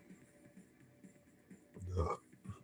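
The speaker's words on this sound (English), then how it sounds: "Burp." A single low, throaty burp rises near the end, close and fairly loud, amid quiet murmuring talk.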